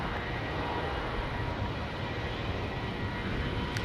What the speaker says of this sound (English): 737 Delta Airlines getting out of here